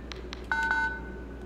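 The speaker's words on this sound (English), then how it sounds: "Dial 911 on the phone." A phone in the video game Five Nights at Freddy's: Into the Pit dials 911 with three quick touch-tone beeps, clear and close over a low background hum.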